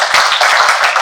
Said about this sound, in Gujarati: ચલો તાળી મારો બધા